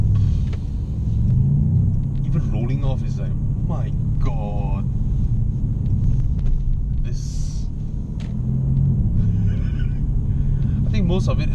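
A 2017 Mercedes-AMG C63 S Coupe rolls along with a deep, continuous engine rumble that stays loud throughout, while people talk over it inside the car.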